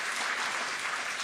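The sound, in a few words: audience applause welcoming the speaker to the stage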